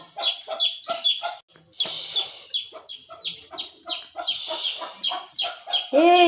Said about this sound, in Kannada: ಈ ಕೋಳಿ ತುಂಬಾ ಶಾರ್ಪ್ ಆಯ್ತಿದ್ದು,